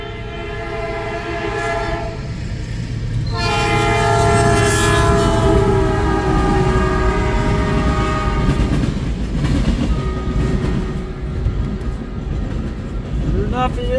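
CN freight train M347, led by locomotive 3343 and nicknamed the Rattler, rolls past at Ladysmith. A long, loud horn blast sounds over the heavy rumble of the engines, then the steady roar of the passing train continues.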